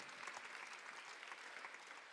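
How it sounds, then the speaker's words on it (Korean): Soft, steady clapping from a church congregation during a Sunday afternoon worship service, faint and continuous with no voices over it. "박수하세요."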